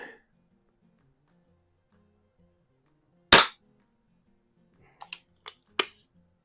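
A Beeman P3 air pistol fired at a can: one sharp snapping shot, then a quick cluster of three quieter pops or clicks a couple of seconds later, close, against near silence.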